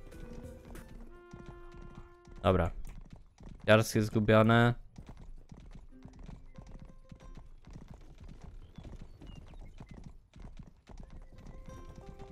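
Horse hooves clip-clopping in the video game Rustler: a few loud bursts of hoofbeats around the middle, then faint scattered footfalls, with someone talking over game sounds.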